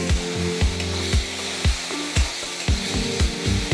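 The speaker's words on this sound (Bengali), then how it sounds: "পেঁয়াজটা গোল্ডেন কালার করে ভাজা নিতে হইব।" Onion and spice paste fry in a pan for a kaikha fish curry: a continuous sizzle with a spatula scraping the pan in a regular beat about twice a second.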